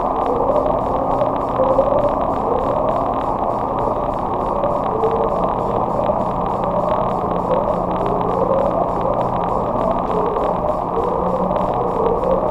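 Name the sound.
Upsweep, unexplained repeating siren-like deep ocean sound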